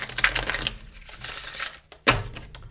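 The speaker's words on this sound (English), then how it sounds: "I'm going to stop cutting the deck over and over" A deck of cards is shuffled and cut repeatedly, quick crisp riffling bursts separated by brief pauses, close and clear with no voices.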